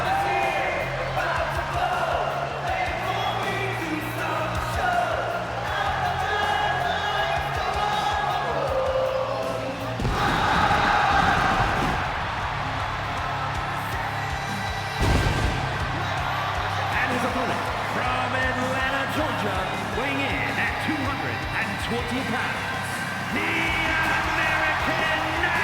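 Arena crowd noise from the WWE 2K25 wrestling game, a steady roar of cheering and yelling that swells loudly around the middle, with commentary voices talking over it throughout.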